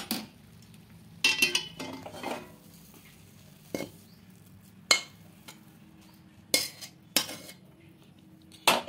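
A spatula scrapes and clinks against a wok while semolina and potato dough is mixed, in short irregular bursts separated by quiet pauses.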